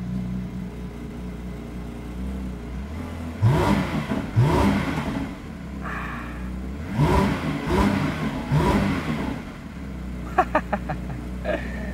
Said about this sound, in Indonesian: itu adalah suara dari mesin 4 liter atau sekitar 4000 cc natural